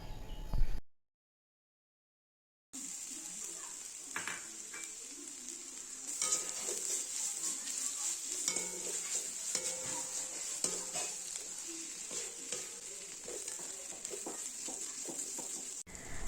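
Ginger garlic paste frying and being stirred in a pan for egg stew, a steady hiss of sizzling oil with scattered scraping and clinking of a utensil, close and continuous after a brief silent gap.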